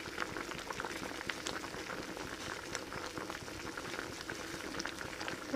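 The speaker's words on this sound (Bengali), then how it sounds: "তো কারকলগুলো আরও 5 মিনিট সিদ্ধ হবে।" Spiny gourd (kakrol) simmering in a pot of water gives a steady, close bubbling and popping boil, continuous and even throughout with no voices.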